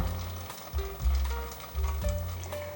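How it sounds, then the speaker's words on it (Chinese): Winter melon vegan meatballs deep-frying in hot oil give a steady, close, crackling sizzle, with a few low thuds and stirring noises as the pieces are turned. "再继续炸成焦黄色。"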